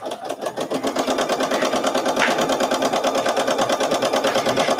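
Embroidery machine stitching a flower design on tulle, a steady fast mechanical needle rhythm running loud and close throughout with no talking.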